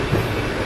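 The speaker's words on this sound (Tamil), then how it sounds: "ஸோ இப்போ ட்ரெயின் ஜேர்னியில் இருக்கோம்" Passenger train rolling along on a Chennai to Goa rail journey, a steady loud rumble of wheels and carriage noise filling the short stretch, close and continuous with no voices.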